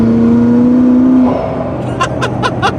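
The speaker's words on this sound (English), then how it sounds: "I figured out the 600 LT makes prime Darth Vader noises in 5th gear on the freeway" McLaren 600LT engine and exhaust cruising in fifth gear on a freeway, a steady deep drone under road and wind noise, with a few brief crackling bursts near the end.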